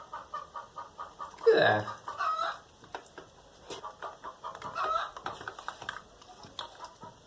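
Chickens cluck and squawk in the background near a screen printing setup, a loud rising squawk early on and then scattered clucks, while a person talks briefly.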